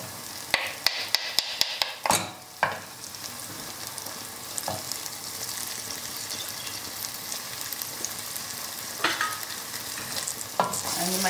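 Ginger garlic paste fries with onion and tomato in a pan for Goan pork stew, a steady sizzle broken by sharp scraping and tapping clatters of a spoon stirring against the pan.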